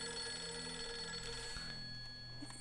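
A telephone rings in the horror video game Project Zero 3, a steady electronic ring with faint tonal hum, close and alone.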